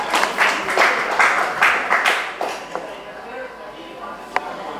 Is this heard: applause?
yes